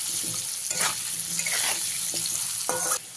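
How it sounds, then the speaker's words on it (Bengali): Diced potatoes frying in oil with turmeric over a medium gas flame, a close steady sizzle broken by several spatula scrapes and knocks against the pan, with no voices. "আলুগুলোকেও আমি ভালো করে লাল লাল করে ভেজে নিই।"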